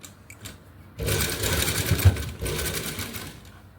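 A sewing machine runs steadily while stitching the lining of an umbrella frock, a brief quieter pause at the start, then continuous close whirring stitching for about three seconds with no talk.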